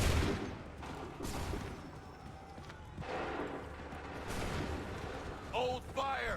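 Musket volleys in Assassin's Creed 3 Remastered, set in a wartime battle: sharp, loud gunshots crack out at irregular intervals amid a noisy battlefield backdrop, with horses and distant shouting voices mixed in.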